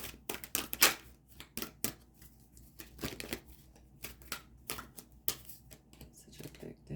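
A large deck of archetype cards is shuffled with rapid, uneven riffling and slapping bursts, close and fairly quiet, continuing for several seconds.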